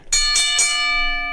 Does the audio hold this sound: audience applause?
no